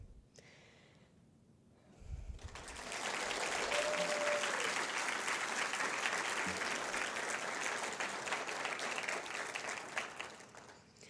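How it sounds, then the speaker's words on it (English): A family-and-friends audience at a Wisconsin technical college student celebration breaks into a long, steady round of applause that swells after a quiet start and carries on for several seconds. "please give yourselves a round of applause"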